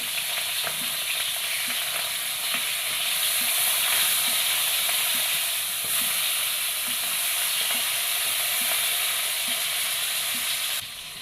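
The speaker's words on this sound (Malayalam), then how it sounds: "ഓയിൽ ചൂടായിട്ടുണ്ട് അതിലോട്ട് മീൻ കൊടുക്കാം ഇതൊന്ന് തിരിച്ചിട്ട് കൊടുക്കാം" Fish (a cd fish) frying in hot oil for a curry, a steady close, loud sizzle with bursts of crackle and regular faint taps running throughout with no voices.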